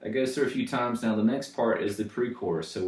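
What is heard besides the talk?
No distinct noise like a dog, phone or traffic.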